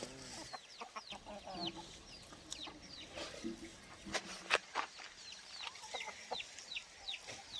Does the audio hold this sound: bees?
no